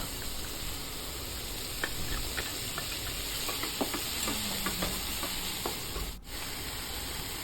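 Large shrimp stir-fried with stink beans and southern Thai curry paste make a steady sizzling hiss in a pan, with light scraping taps from a utensil scattered throughout and no voices.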